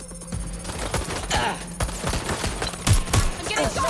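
Gunfire in the video game Watch Dogs: Legion, rapid bursts of shots crackling over a busy game soundtrack, with a person talking over the action.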